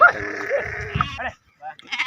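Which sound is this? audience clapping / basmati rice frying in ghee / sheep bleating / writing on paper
sheep bleating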